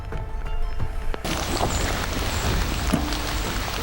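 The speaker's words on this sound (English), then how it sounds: "Tom, with the way we're getting all this rain, tracks are getting wiped out pretty fast" Steady rain falls outdoors in brown bear country, a dense broadband hiss that starts abruptly and then holds evenly throughout.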